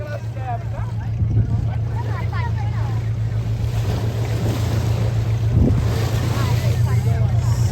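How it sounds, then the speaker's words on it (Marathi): A boat on the open sea off Worli during a Ganpati immersion carries a steady low engine drone under loud wind buffeting and the slap and rush of waves. "पूर्ण बोट खाली येते वर जाते, खाली येते वर जाते"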